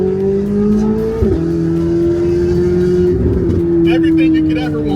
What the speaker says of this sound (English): now it's time for you to hear exactly what the C8 Z06 sounds like flying by